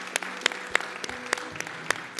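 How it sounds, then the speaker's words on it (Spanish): Church congregation clapping during a Sunday morning service, a sparse, uneven patter of hand claps with a few sharper, louder claps standing out, fairly close, no voices. "¿Cuántos pueden dar una ofrenda de palmas grande a Jesucristo el Salvador en esta mañana?"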